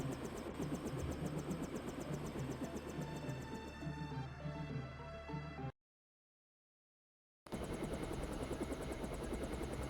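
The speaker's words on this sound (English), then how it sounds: "Time to see if this stealth copter is worth all the fuss." Stealth helicopter in the Deus Ex video game, a steady rotor-and-engine drone with a rhythmic chop running continuously, cutting out to silence for about two seconds before resuming.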